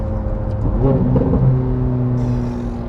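Loud, droning V8 engine of a Ferrari 430 Scuderia heard from inside the cabin, revving up briefly to less than half its limit, then holding a steady high hum.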